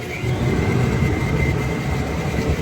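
A goldsmith's jewellery polishing wheel machine runs steadily, giving a loud continuous whirring drone with a faint high tone throughout and no speech.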